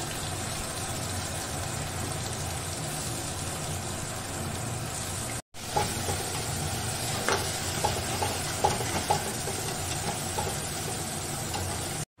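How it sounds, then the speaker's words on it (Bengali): Onion, ginger and garlic paste sizzles steadily in hot oil for a Bengali catfish curry, a constant frying hiss with a short break, then light stirring clicks over the sizzle. "এবার ওই তেলের মধ্যে আমি দিয়ে দেবো এই আদা রসুন পেঁয়াজের পেস্টটা।"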